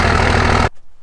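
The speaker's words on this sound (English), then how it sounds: "Look at this engine. I love this thing so much. Oh, it makes all the right sounds." A second-generation Dodge 24-valve Cummins diesel engine running, a loud, close, even rumble that cuts off abruptly after about two-thirds of a second, leaving near silence.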